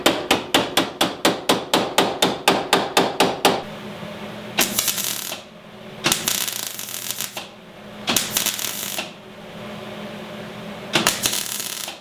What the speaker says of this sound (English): Now I'm just going to finish it off with the ball peen hammer here.